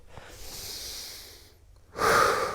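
Slow, deep breaths during outdoor stretching at a lakeside park: a long drawn inhale, a pause, then a sharper, louder breath through the nose, close to the mic with no speech.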